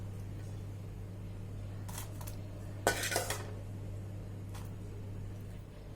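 Ground masala for Tamil sundakkai vathal kuzhambu is scraped from a dish into a mixer jar, giving a few brief clinks and a louder scraping clatter over a steady low hum, with no talking.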